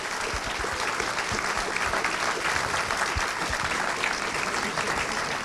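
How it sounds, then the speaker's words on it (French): A hall audience gives sustained, dense applause for Pierre Lévy after a talk at a Sciences Po Bordeaux event, steady and full throughout with no voices rising above it. "je vous demande de l'applaudir"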